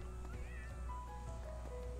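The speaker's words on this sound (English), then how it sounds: "So many cats." Cats meow in the video game Fire Emblem: Three Houses, with a few faint, drawn-out mews over a low steady background hum.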